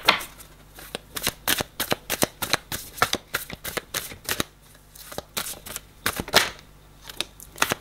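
Cards handled one after another during a military-themed tarot-style card reading, producing rapid sharp snaps and flicks in irregular bursts, close and fairly loud, with no talking.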